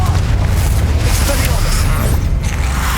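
A fiery blast spell erupts in the wizarding game Hogwarts Legacy, a loud, dense, rumbling explosion that fills the whole moment with deep boom and crackling debris.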